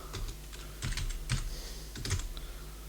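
Keys clatter on a computer keyboard while a terminal command is entered, with several quick bursts of close, crisp clicks.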